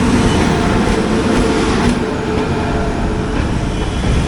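A passing train hauled by a WAP-7 electric locomotive, number 39208 from Gomoh, rumbles close by as a steady loud roar of wheels and rails with faint rhythmic clatter, heard from aboard another train.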